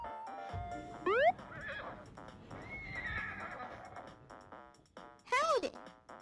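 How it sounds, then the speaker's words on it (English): Video game horse whinnies loudly twice, with rising then falling pitch sweeps, over soft rhythmic hoof clip-clops and a light background music bed. "I think my horse needs new horseshoes."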